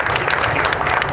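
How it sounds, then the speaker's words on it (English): A press conference audience claps in a steady, dense wash of applause filling the short moment, with no voices standing out. "Give him a nice round of applause."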